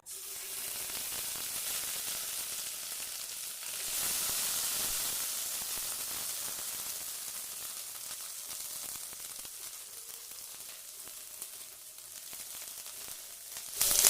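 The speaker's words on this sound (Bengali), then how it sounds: "এবার দিয়ে দিচ্ছি 1 টেবিল চামচ আদা জিরে বাটা।" Ginger-cumin paste added to hot oil left from frying paneer gives a broad, continuous hiss that swells around the middle and then eases, steady and fairly quiet with no talking.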